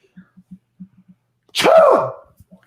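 A voice imitates a sneeze: a sharp, loud burst with a drawn-out falling tone, after several soft clicks and breaths.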